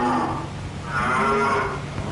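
Cattle bound for a stockyard lowing in long, loud, drawn-out moos, with two calls close together and no talk.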